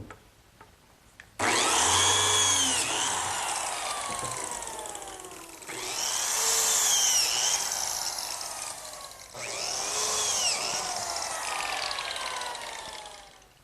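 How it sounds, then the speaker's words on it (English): A biscuit joiner cutting slots in cherry wood starts up abruptly, then makes three loud close plunging cuts, each a rising, straining whine as the blade bites in, separated by brief dips in pitch. "So now I'll just cut some slots for the biscuits."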